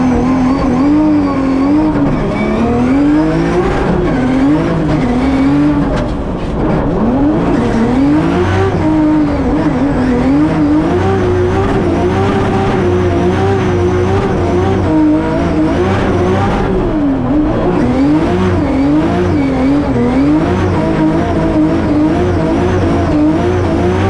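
A Nissan S15 on a shakedown run gives a loud, continuous engine roar throughout, its pitch rising and falling with acceleration and shifts, and tires squeal now and then.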